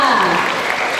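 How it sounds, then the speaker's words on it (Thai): Applause from an audience at a community Father's Day gathering of several ethnic groups in a Thai border district, a dense steady clapping wash that carries on evenly through the whole moment, with voices mixed in. "ขอเสียงปรบมือดังๆด้วยค่ะ"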